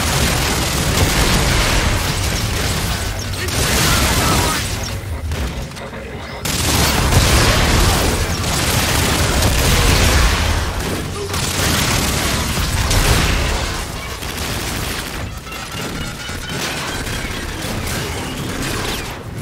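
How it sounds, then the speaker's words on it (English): Rapid gunfire and booming explosions from rogue guard bots in the Call of Duty: Infinite Warfare shooter, loud and sustained in dense bursts with brief lulls. "Why is our old tech shooting at us?"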